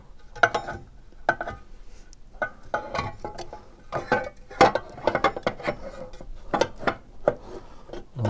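Clicks and clunks of a variator cover being fitted onto a Royal Alloy GP300 scooter, a run of sharp, irregular metallic knocks and ratcheting taps close by, with no talk.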